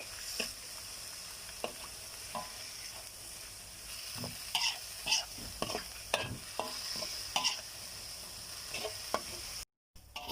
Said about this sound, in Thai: ทอดหอยนางรมหน่อยหนึ่ง